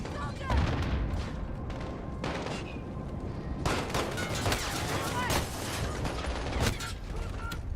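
Sustained gunfire in Call of Duty: Modern Warfare (2019) hits the player, with bursts of shots and impacts fairly loud and continuous across the scene, mixed with game effects and talk over the top.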